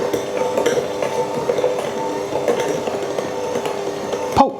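Slow stirring of cake batter with almond extract in a bowl for a Bakewell loaf cake, soft scraping and light clinks close by, with a sharper knock at the end.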